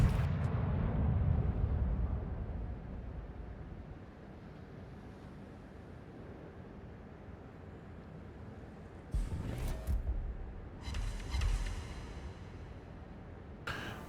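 Naval gunfire from the Soviet warship Smolensk in World of Warships, deep booming blasts at the start, then a long rumbling lull, then two more sharp salvos roughly a few seconds apart.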